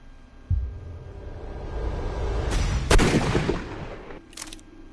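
Gunshots in Sherlock Holmes Crimes and Punishments: a sharp report followed by a louder close blast with a rumbling tail, then one more crisp shot near the end, with no talking.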